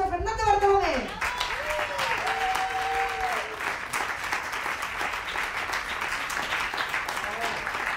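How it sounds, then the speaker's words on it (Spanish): Audience applause at a university science comedy monologue show greets a speaker, rising into steady, dense clapping from a large crowd after a brief voice at the start. "¡Fuerte el aplauso a Fernando Bartolomé!"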